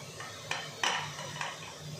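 Cut tomato pieces dropped into a pressure cooker while making tomato sambar, a few soft knocks and clatters of food and utensil against the metal pot, close and quiet.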